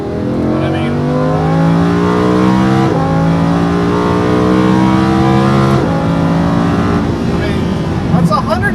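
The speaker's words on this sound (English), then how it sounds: "that's incredible amount of performance when you really rev the car out" A Lamborghini Huracan 580-2 engine revs hard at high RPM under acceleration, its loud rising howl broken by two quick gear shifts and settling at the end, with talking over the top.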